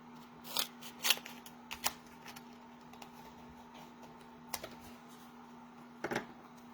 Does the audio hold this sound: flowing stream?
no